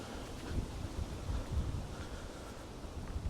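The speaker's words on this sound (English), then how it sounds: "it's so windy today" Wind gusting across open woods and hills near the coast at West Runton, a steady, rough buffeting roar against the microphone that swells and eases throughout, with no voices.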